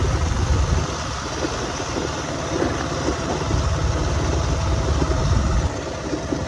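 A motorbike rolls slowly along a road, its engine a steady low rumble close by, with a slight change in tone toward the end and no talking.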